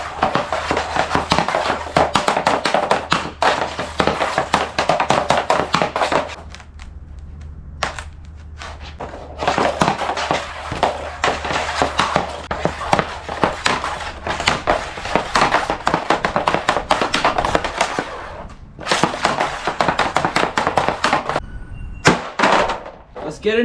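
Bauer Proto R hockey stick firing pucks in rapid succession, a steady stream of sharp close cracks and thuds in bursts with short pauses, loud and repetitive.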